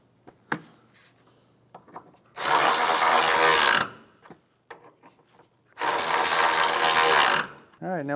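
Two long bursts of rapid ratchet clicking as a wrench backs out the inner 12 mm bolts on a 2011-2016 Hyundai Elantra during A/C condenser replacement, with light tool handling between.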